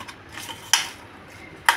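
Metal spoon stirring spice paste of onion and salt in a pot or bowl, two sharp clinks against the vessel over a soft background scrape, close by.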